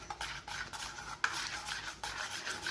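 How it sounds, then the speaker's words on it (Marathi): A spoon stirs and scrapes through homemade butter churned from collected milk cream, making quiet rhythmic strokes that repeat every fraction of a second, close to the listener. "फक्त चमच्याने थोडं फिरवायचं."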